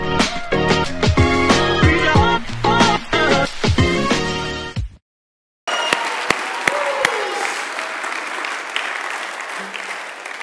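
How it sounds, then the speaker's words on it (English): Church congregation clapping in praise during a Sunday service: loud music with percussive hits first, then a brief gap and dense, sustained clapping from many hands with a few sharp claps standing out. "give God a hand clap of praise"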